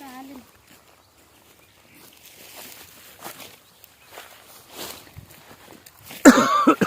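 A short vocal sound opens, then quiet shuffling, and a single harsh, close cough bursts out near the end.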